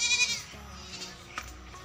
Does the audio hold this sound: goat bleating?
yes